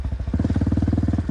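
A motorcycle engine catches and settles into a rapid, even chugging idle up close, the steady pulsing putter filling the short moment without any talk.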